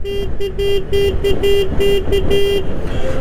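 A newly fitted horn on a Honda Activa scooter sounds in a quick run of about eight short, loud, close honks with a steady pitch, then the engine idles on alone.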